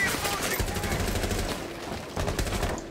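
Rapid automatic gunfire rattles through a round of the Rainbow Six Siege video game, with sharp repeated shots over game background sound and a player's voice talking.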